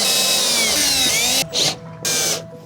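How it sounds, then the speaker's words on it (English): A power drill whirs steadily into wood while driving hinge screws, then pauses and gives two shorter bursts, loud and close. "when I'm drilling the hinges in"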